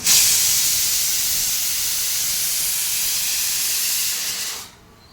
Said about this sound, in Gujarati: દાળ ઢોકળી બનાવવા માટે જો આજે વહેલું કુકર મૂકી દીધું છે